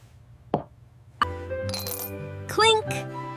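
A coin drops into a piggy bank, a bright metallic clink followed by ringing rattles, after an earlier faint tap; close and clear in a quiet room.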